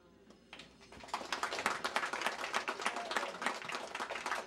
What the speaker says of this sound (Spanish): fuertes aplausos